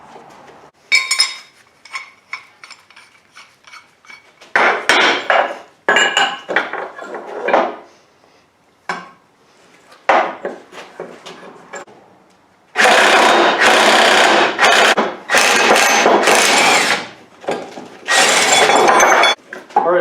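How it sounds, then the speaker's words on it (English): A ball joint press pushes a ball joint out of a steering knuckle, making a series of close, loud metallic creaks and grinding bursts in uneven spurts, with longer sustained stretches of strain toward the end. "you can push the ball joint through the knuckle"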